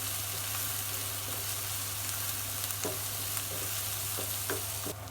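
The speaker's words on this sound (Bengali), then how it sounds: "পেঁয়াজটা ভাজা হয়ে গেছে" Onions with green chilies sizzle steadily in hot oil in a pan for bitter gourd fry, a close constant crackle with a few soft stirring scrapes and no talk.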